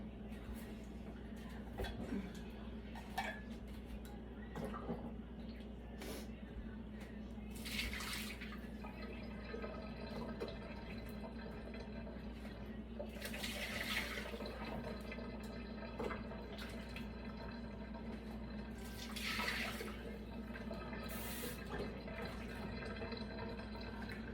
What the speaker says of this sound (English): Looks like I've got a little too much water in here. I'm gonna have to take some out